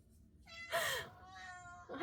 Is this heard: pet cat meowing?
yes